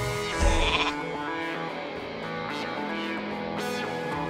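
A World of Warcraft polymorph spell turns a player into a sheep during PvP combat, giving a loud, close bleat near the start, then fainter repeated bleats over a busy mix of game effects.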